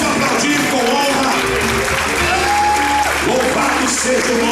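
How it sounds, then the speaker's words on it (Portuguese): A church congregation applauds together, a steady wash of clapping with some cheering, while a voice and sustained musical tones carry over the top. "Vamos aplaudir com honra."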